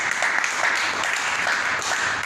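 A church congregation applauding in praise during a French-language sermon, a steady dense wash of many hands clapping throughout, fairly loud and continuous with no clear pauses.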